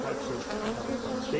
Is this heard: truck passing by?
no